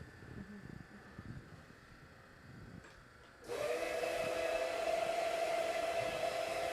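A rotary carpet cleaning machine starts up abruptly partway through, then runs with a loud, steady motor whine and hum after a quieter stretch of background noise.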